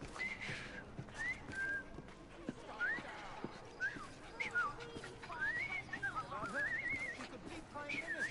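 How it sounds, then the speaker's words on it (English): A character whistles rising and falling tunes in the Victorian London streets of Assassin's Creed Syndicate, over a busy background of horse hooves clip-clopping and occasional neighs. "I've just learned to whistle."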